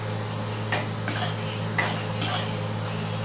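A spoon stirs brinjal curry with chili powder and spices in a pan, giving about five light metallic clinks at an uneven rhythm over a low, steady stove hum.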